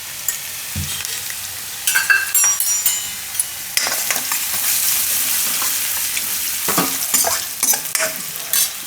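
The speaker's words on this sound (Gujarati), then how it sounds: "એમાં થોડુંક આપણે જીરું નાખીશું અને આ લસણ નાખી દઈશું." Cumin seeds and grated garlic sizzle in hot oil, a steady crackling fry broken by clear scraping stirs and sharp spoon clinks on the pan, with no voices.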